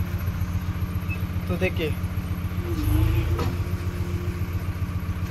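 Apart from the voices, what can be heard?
JCB backhoe engine idling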